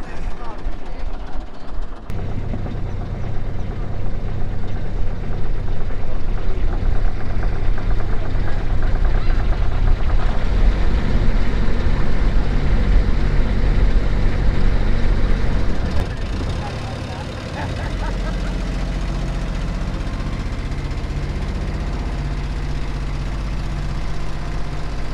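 Hamble River ferry boat crossing the estuary in Hampshire: a steady, loud, low diesel engine rumble with a knocking throb that runs throughout and drops to a quieter idle near the end, with voices speaking over it.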